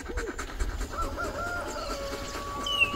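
Chickens cluck in short, irregular bursts close by on a farm, joined by a drawn-out rooster crow in the middle, with no talking over them.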